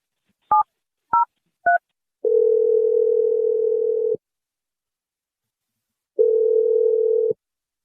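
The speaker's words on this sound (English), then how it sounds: "I'm going to dial her number right now." A telephone being dialed: three short keypad tones in quick succession, then a steady, loud call tone that runs about two seconds, falls silent, and returns briefly. No voices are heard.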